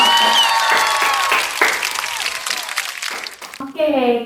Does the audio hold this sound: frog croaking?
no